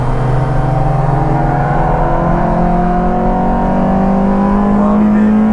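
A car driving a track day on the Nürburgring Nordschleife, heard from inside as a loud, sustained engine drone whose pitch slowly rises and shifts with throttle and gear changes.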